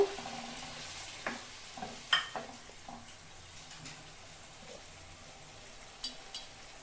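Eggs being stirred in a frying pan for a Bengali egg kosha, soft sizzling with several light scraping and tapping strokes of a utensil, quiet and close.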